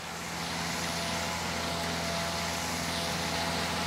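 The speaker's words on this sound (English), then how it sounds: "I just heard the truck fire up, so let's go up here and see this thing at what I guess would be close to full" A mulch blower truck's engine runs near full throttle, a steady loud drone with a low hum and roaring air blast heard from close by, unchanging throughout, with no voices.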